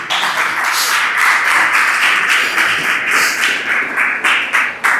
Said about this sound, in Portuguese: glorificar o Senhor com palmas bem alegres para Jesus